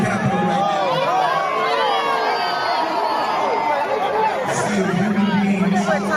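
A large crowd at a Juneteenth rally at the Capitol in Washington, DC keeps up a dense, continuous chatter and babble, with scattered raised voices and shouts carrying over the murmur.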